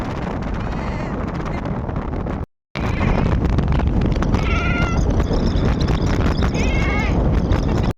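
People riding a bike over road bumps imitate a goat's bleat with a few wavering, bleat-like vocal calls, set against constant loud wind rush from the ride.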